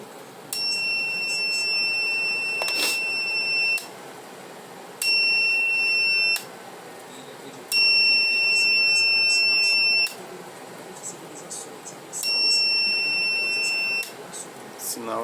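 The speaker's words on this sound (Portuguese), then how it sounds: "dando um sinal aqui de curto-circuito aqui. A fonte está entrando em proteção." Bench power supply beeping in short-circuit protection while an inverter is being repaired: four long, steady electronic tones, each lasting about two to three seconds, separated by short gaps, loud and close.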